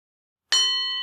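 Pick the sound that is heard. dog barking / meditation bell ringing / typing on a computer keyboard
meditation bell ringing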